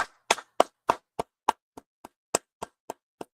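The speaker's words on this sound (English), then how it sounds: "Go ahead and clap it up." Slow, evenly spaced loud claps, about a dozen separate sharp hits close by with silence between them, from a single clapper rather than a crowd.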